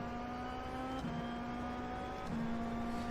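A steady, high-pitched race car engine in iRacing drones at constant speed with brief dips, sounding synthetic and even, with no voices.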